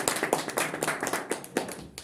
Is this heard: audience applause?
yes